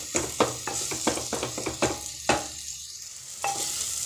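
Spices and gravy for dal palak are stirred and sautéed in a pan, with a soft sizzle beneath repeated scraping strokes of a spoon against the pan, close and fairly even in rhythm.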